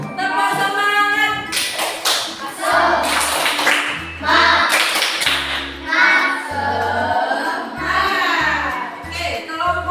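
A classroom group performs a rhythmic spirit clap, sharp hand claps and taps landing in a patterned beat alongside chanted voices, loud and close throughout.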